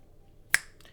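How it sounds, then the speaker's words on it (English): A single crisp finger snap, close and sharp with a quick decay and a faint softer follow-up, against a quiet room. "So I'll just snap my fingers now."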